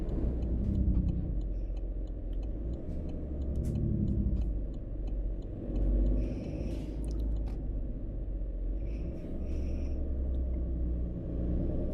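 Truck engine in the video game American Truck Simulator drones steadily at a low pitch while driving, with faint intermittent clicks and ticks over the continuous rumble and no speech.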